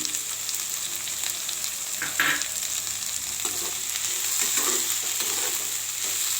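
Guntur dried red chillies fry in a pan with a steady crackling sizzle, and a few brief stirring scrapes stand out above the constant hiss.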